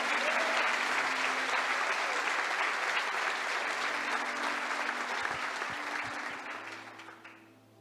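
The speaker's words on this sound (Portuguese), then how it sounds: "Você pode aplaudir o Senhor?" A church congregation claps in a sustained, full burst of applause that carries on for around seven seconds before tapering away. A faint low tone hums underneath.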